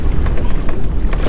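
Choppy water slaps and splashes against a Hobie kayak in 10 to 15 mph wind, a close, continuous rough wash with blustery wind noise on the microphone.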